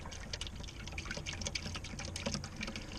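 Water-based resin binder pours steadily into a mix, making a continuous splashing, trickling wash close by with no talking.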